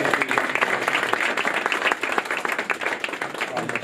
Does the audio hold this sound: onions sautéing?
no